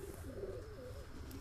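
High-flying pigeons in a breeding loft give a clear rolling coo, a wavering low call rising and falling close by over a steady hum, with no speech.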